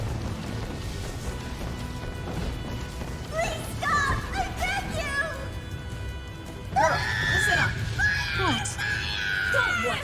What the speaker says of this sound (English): Don't you hear all that screaming?